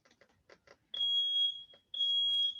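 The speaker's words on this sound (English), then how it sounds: "Okay, we have somebody's cooking in there. That's why this beeping sound." A smoke alarm set off by cooking nearby sounds two long, piercing high-pitched beeps, each about half a second, with faint tapping and clicks between them indoors.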